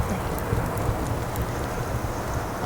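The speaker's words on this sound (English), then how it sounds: "sorry about the rain outside" Steady rain falling outside, a dense, even hiss with soft patter that holds without pause throughout, with no voices over it.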